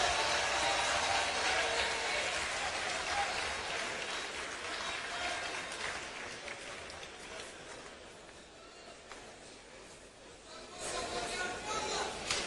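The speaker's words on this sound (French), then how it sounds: "Je voudrais qu'on applaudisse l'entrée du président de l'Assemblée nationale" Sustained applause from a large ceremonial audience greets the entrance of National Assembly president Mbosso Kodia, a steady dense roar of clapping that swells again near the end, with a voice speaking over it.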